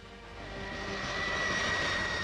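The engines of Air Force One, the US presidential plane, roar with a broad jet rumble and a steady high whine, swelling gradually louder as the aircraft draws nearer.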